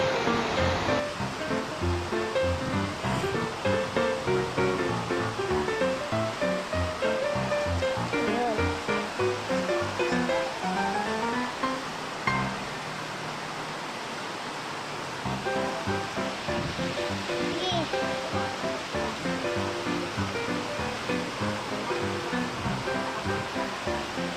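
Continuous rushing water, a broad steady roar of a river flowing close by at a road crossing in Columbio, Sultan Kudarat, with a brief lull near the middle before it resumes.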